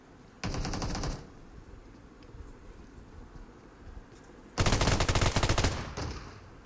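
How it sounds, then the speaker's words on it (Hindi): Shotgun fire in the mobile battle royale game PUBG Mobile comes as two loud bursts of rapid shots, a short burst first, then a longer volley a few seconds later, with no speech over them. "क्या शॉटगन मुंह पे पड़ी."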